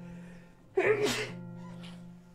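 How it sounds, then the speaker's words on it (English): A single sharp sneeze bursts out close to the mic, followed by a brief breathy exhale, over a steady low electrical hum. "Sorry, I gotta sneeze."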